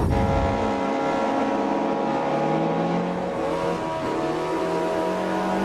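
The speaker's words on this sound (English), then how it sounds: "I'm racing the German Group A DTM car at the Red Bull Ring" German Group A DTM race car engine at the Red Bull Ring in the racing game Automobilista 2, a steady loud droning tone with a slowly shifting pitch, close and continuous, no talk.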